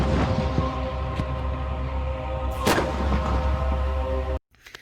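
Tank guns fire on a firing range: heavy booming shots with sharp cracks ring out over a constant low rumble, one especially strong blast in the middle, before the sound cuts off abruptly.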